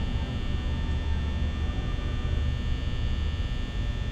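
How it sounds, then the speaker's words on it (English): A low, steady electrical hum drones without change throughout, attributed to the Foxy animatronic in Five Nights at Freddy's, with a faint buzzy edge and no voices. "Foxy, you're humming."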